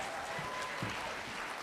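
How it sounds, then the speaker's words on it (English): Steady applause from an audience at a nursing excellence awards ceremony, a dense, even wash of clapping heard at moderate distance for the whole short stretch. "One more round of applause for Erin."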